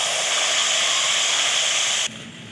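Ground spice paste of cashew, mustard and poppy seed hits hot oil and sizzles loudly, a dense steady hiss that continues unbroken before dropping off sharply near the end.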